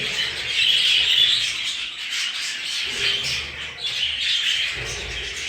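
Young opal budgerigar chicks call in a close, continuous chorus of high chirps and squawks, with short lulls between bursts and no voices over them.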